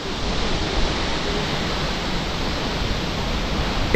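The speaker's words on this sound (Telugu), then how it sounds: "ఏం వాటర్ ఫాల్ రా నాయన, ఏం వాటర్ ఫాల్ రా." Phe Phe waterfall in Meghalaya pours in a steady, loud, broadband roar of falling water, dense and unbroken throughout with no voices.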